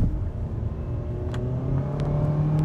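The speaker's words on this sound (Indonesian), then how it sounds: "nggak nyampe 1 detik dia sudah nyampe RPM tinggi" A 2023 Mitsubishi XForce engine revs hard in L mode, a steady loud rising drone with rumbling road and cabin noise, climbing quickly in pitch as the car accelerates, with no talk over it.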